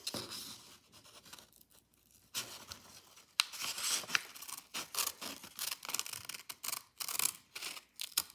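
Scissors snipping through paper while a paper airplane is being made, heard as close, quiet bursts of cutting and rustling that grow denser and more rhythmic in the second half, with no speech.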